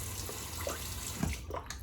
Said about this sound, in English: Quick rinse in the cold water.